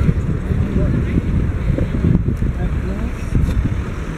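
Wind gusting across a microphone outdoors at a lookout in Brussels, a steady low rumble and buffeting that runs throughout, with faint background activity beneath.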